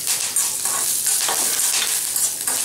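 Steady, crackling sizzle of curry leaves frying in hot oil, bright and close, with faint stirring scrapes and no talking.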